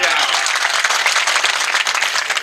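A mushaira crowd in Moradabad gives dense, loud applause for the poet Yakub. The clapping is a brief burst of crowd noise with murmuring voices underneath.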